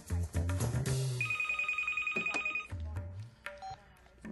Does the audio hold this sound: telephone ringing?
yes